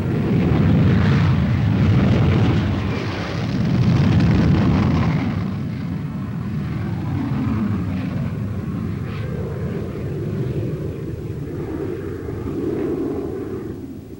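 Air Force fighter interceptor jets and Army Nike guided missiles give a loud, sustained roaring rumble that swells early, then settles into a steadier, heavy drone with no voices.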